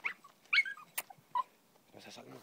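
A hunting dog whimpering and yipping in brambles while chasing a rabbit, several short high whines and yelps spaced apart, close and fairly faint, with a voice speaking briefly near the end.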